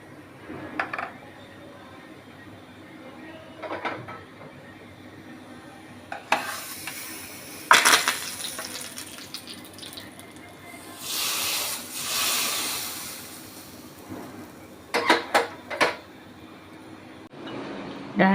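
Dal kairi, a raw mango and soaked lentil mix with mustard seeds and salt, stirred in a pan: scattered bursts of scraping and rustling that come and go over a quiet background, with a longer hissy stretch midway.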